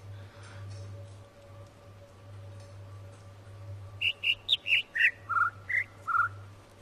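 Bird chirps from a puzzle in The Witness: a quick run of eight clear, whistled tweets at varying pitches, close and distinct, ringing out over a steady low ambient hum after a few seconds of quiet background.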